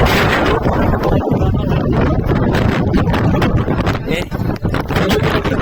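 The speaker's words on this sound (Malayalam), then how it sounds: "നമുക്ക് നിൽക്കാൻ പറ്റില്ല, കാറ്റ് നമ്മളെ എടുക്കും അങ്ങോട്ട്." Strong gusting wind roars across a hilltop in the rain near Vellarada, a dense continuous rush battering the microphone, with someone speaking over it.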